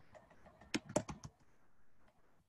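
Quick bursts of keystrokes on a computer keyboard, a handful of crisp clicks close to the mic, followed by a quiet room.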